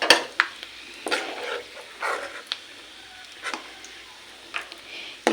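Raisins frying in ghee while being stirred with a spoon, a soft sizzle broken by repeated scraping strokes in an uneven rhythm.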